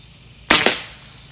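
A single sharp gunshot from a Trapmaster gun during outdoor plinking near stumps and trees, close and loud with a quick second crack and a brief echo, then quiet.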